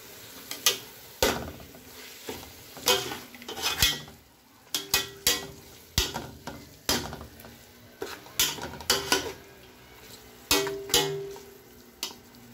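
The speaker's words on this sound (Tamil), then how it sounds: "இப்போது எடுத்து வச்சுருக்கிற 2 பச்சை மிளகாய் போட்டுட்டு அதையும் நல்லா மிக்ஸ் பண்ணுவோம்." A metal spoon scrapes and knocks against a pan in a quick, irregular rhythm as green chillies are mixed into mushroom biryani masala, over a faint sizzle underneath.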